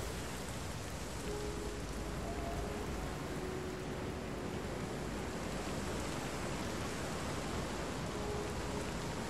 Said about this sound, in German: Na, hier regnet es immer noch rein, so ein Mist.